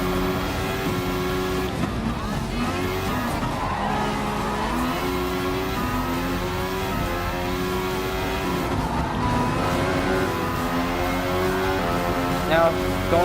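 A Mercedes-AMG Formula 1 car in the Gran Turismo Sport racing game holds a steady high-pitched engine whine at full throttle, rising and shifting through gears, while someone talks over it.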